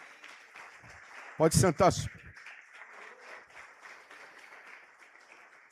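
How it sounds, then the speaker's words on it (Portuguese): A church congregation's applause at a Sunday morning service continues softly in the background as it winds down. A voice speaks briefly and loudly over it near the middle. "Você pode aplaudir o Senhor pela vida da Socorro."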